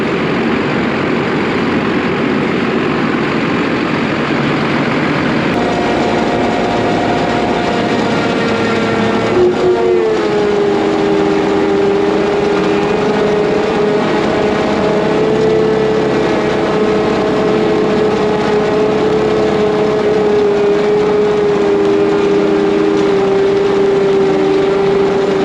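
A tractor engine runs steadily and loudly while chopping barley, a constant droning roar whose pitch rises and settles into a sustained whine partway through, with no talking.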